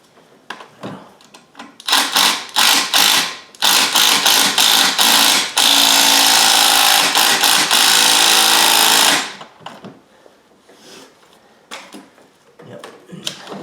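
Power tool tightening bolts on a 2007 Buick Lucerne 3.8 alternator, loud bursts of buzzing ratchet-like whirring, a long sustained run in the middle, with quieter clicks and handling noise before and after.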